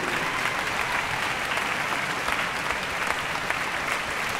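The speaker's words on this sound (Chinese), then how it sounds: "热烈的掌声" Warm, dense applause from a concert audience at a Rimsky-Korsakov Scheherazade performance, steady and even throughout without any pause.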